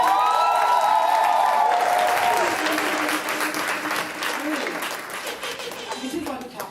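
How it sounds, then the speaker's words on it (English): Audience applause and cheering at a graduation production, loud dense clapping with shouts rising over a fading held tone, tapering gradually toward the end. "Everybody, come give us a clap."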